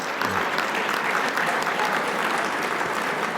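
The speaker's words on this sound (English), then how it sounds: "So a round of applause once again for Ray Hornblower." An audience claps for Ray Hornblower in a dense, steady round of applause, filling the room evenly from start to finish, with a brief low voice at the very start.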